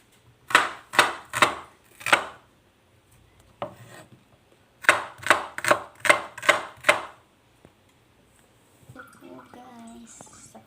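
A knife chops garlic and onion on a board in two quick bursts of four to six sharp, close thuds, separated by a quiet pause, followed by faint clattering handling sounds.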